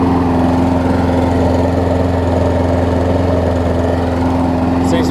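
A John Deere JS360 mower engine fitted with a new Briggs & Stratton carburetor runs steadily up close, a loud even drone with a constant hum and no change in pace.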